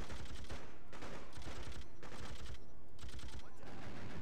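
Rapid bursts of automatic gunfire in the video game Freedom Fighters, several dense volleys in a row separated by short pauses, loud and close with no talking.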